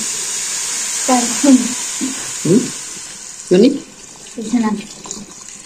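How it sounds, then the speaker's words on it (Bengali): Water poured onto rice frying in a pot for bhuna khichuri, a hiss and sizzle with short bursts of bubbling and a few clatters, close and fairly loud, with no talking. "এখন আমরা পানি দিয়ে দিলাম।"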